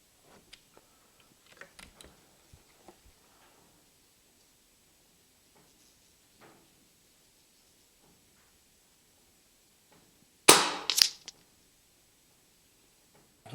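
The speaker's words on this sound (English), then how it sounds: "All right, I'm going to shoot one more here." Brocock Bantam Sniper HR air rifle on high power fires one sharp, loud shot with a brief crack and quick decay, standing out alone after several faint ticks and small handling clicks.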